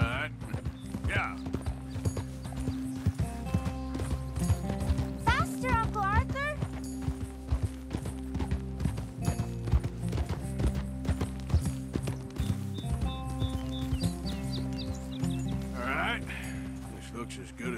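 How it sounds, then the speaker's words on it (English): Hooves clip-clop rhythmically as a horse gallops in Red Dead Redemption 2, steady and close over ambient game sound, with brief whinnies and people talking over the hoofbeats. "Ride fast, Uncle Arthur"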